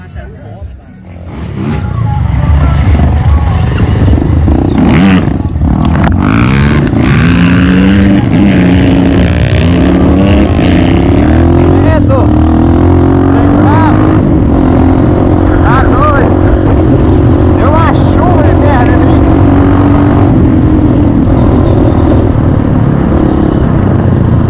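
A motorcycle engine roars loudly up close on an off-road trail ride and holds a rough, sustained revving drone, with voices shouting over it.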